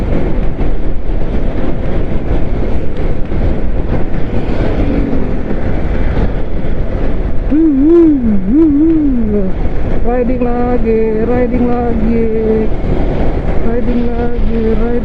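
Strong wind roaring loudly and continuously while riding a motorcycle, a dense low rumbling buffet with a voice speaking underneath partway through.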